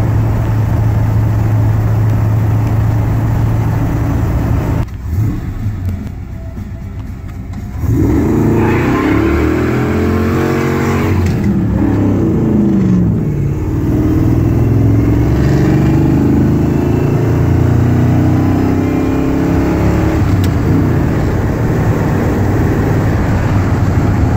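A loud 1984 Chevy pickup engine drones at idle, dips briefly, then the truck revs hard and pulls away with rising, shifting engine tones and steady road noise.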